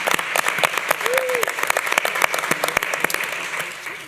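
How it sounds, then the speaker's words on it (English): An audience at a school board of education meeting gives a round of applause, with sharp individual claps standing out over a broad crowd patter, loud and close, fading toward the end, with a brief voice heard partway through. "I think we should all give them a well-deserved round of applause"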